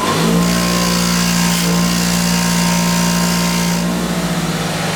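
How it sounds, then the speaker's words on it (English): A wire wheel scrubs rust from a leaking power steering line, running as a loud, continuous motor whine with a harsh grinding hiss that holds steady from start to finish. "we're just going to use the wire wheel"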